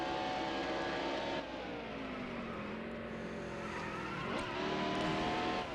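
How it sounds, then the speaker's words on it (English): A NASCAR race car in NASCAR Heat Evolution downshifting through a corner, its engine note sliding down and then climbing again as it revs, a continuous near roar with no talk. "we had to downshift to third to try to help it through the corner"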